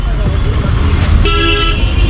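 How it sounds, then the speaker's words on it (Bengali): Busy outdoor ambience at Dhanbad railway station, with a steady low rumble of engines and traffic, and a car horn sounding loudly and close partway through. "ফাইনাল আমরা চলে এসেছি এখন ধানবাদ স্টেশনে"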